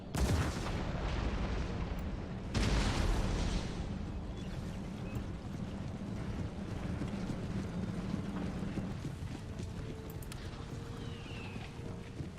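Massed musket and cannon fire rolls across a battlefield in Total War: Empire, a steady dense crackle of volleys with heavier booms near the start, continuous throughout.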